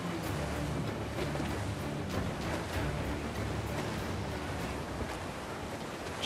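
A sailing ship in a storm at sea in a video game, with constant roaring wind and crashing waves forming a dense, loud wash that holds steady throughout, with no voices.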